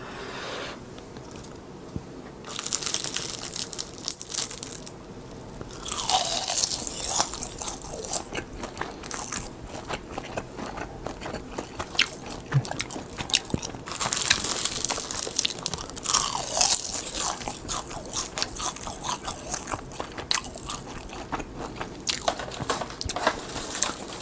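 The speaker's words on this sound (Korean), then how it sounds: "양꼬치. 일단 양꼬치부터." Lamb skewers dusted with red seasoning are bitten and chewed close to the mic, giving repeated loud crunches and crisp bites in uneven bursts, with quieter chewing between them and no talk.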